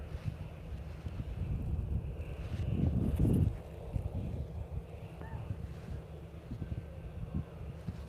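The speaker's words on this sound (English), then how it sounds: "it's not so easy to get an enjoyable wind sound." Wind buffets a camera's built-in microphone outdoors at SpaceX Starbase in Boca Chica, Texas, a steady low rumble throughout that swells into a heavier gust near the middle of the clip.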